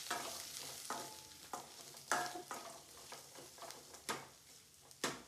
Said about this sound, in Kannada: ಇವಾಗ ಈರುಳ್ಳಿನ ಆ್ಯಡ್ ಮಾಡ್ಕೊತಾ ಇದ್ದೀನಿ. ಇದನ್ನು ಅಷ್ಟೇ ಈಗ ನೀಟಾಗಿ ಫ್ರೈ ಮಾಡ್ಕೊಳ್ಳಿ